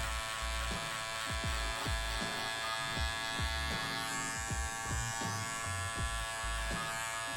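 A barber's electric trimmer buzzes continuously at close range while setting a beard guideline, its steady hum marked by repeated soft ticking strokes as it passes over the hair.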